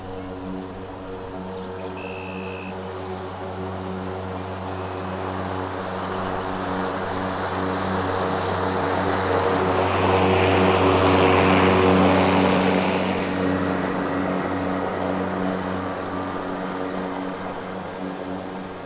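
A battery-powered Milwaukee M18 rotary lawn mower drones steadily with a strong low hum while cutting grass, swelling louder midway through the passes and then easing off, with no talking.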